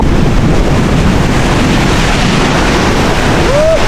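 Large sea waves pound the shore at Velas beach, a loud, unbroken roar of surf mixed with heavy wind noise on the microphone.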